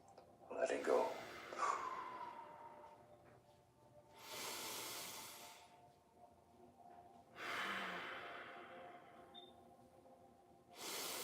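Deep, slow yoga breathing, with long airy inhales and exhales rising and fading in an even rhythm, close and soft against a quiet room.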